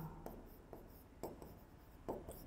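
Pen or chalk writing strokes during a physics lesson on measurement units, a few short scratchy bursts at an irregular rhythm, close and quiet over a faint room hiss.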